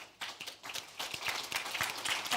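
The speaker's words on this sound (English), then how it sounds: "Clap." Convention audience clapping, a thin scattered patter that builds into fuller applause over a couple of seconds.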